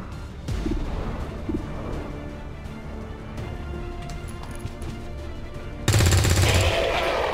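Gunfire from an XCOM 2 battle, a dense run of repeated shots through the middle with a louder burst of firing near the end, amid game sound effects.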